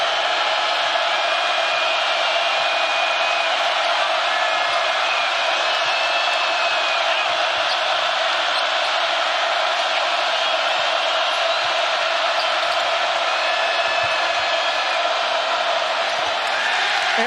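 Sell-out crowd of more than 11,000 filling Bramlage Coliseum at a Kansas State Wildcats versus Florida Gators college basketball game, a loud, continuous roar of noise that holds steady throughout.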